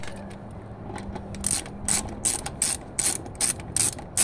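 An impact wrench refits a car wheel bolt, firing about seven short, loud, rattling hammer bursts close up, each separated by brief pauses over a low background hum.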